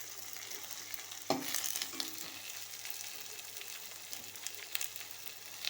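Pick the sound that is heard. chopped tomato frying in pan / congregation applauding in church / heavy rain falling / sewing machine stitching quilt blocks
chopped tomato frying in pan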